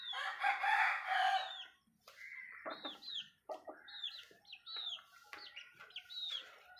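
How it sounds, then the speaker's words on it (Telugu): A rooster playing with a goat kid gives a burst of raspy noise, then a series of short clucks and sharp upward calls in irregular rhythm, close and fairly clear. "మేకపిల్ల పుంజు రెండు ఆడుకుంటూ ఉంటాయి"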